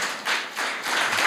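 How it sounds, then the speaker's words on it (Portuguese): A church congregation claps for Jesus during a worship service, a brief burst of dense, even applause rising and falling in waves with no voices over it. "Você quer dar uma salva de palmas para Jesus?"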